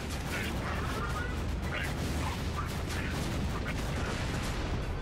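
Constant dense roar of explosions and gunfire in the video game Borderlands 2, with repeated booms layered over a steady loud barrage and no clear pauses.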